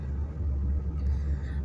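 A car cruises along an open, traffic-free road in Saudi Arabia's Makkah province, giving a steady low engine and tyre rumble from inside the cabin that swells gently and never drops away.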